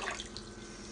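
Water being poured into a pot for a dry ice experiment, a brief, steady splashing and gurgling rush at moderate volume with no talking.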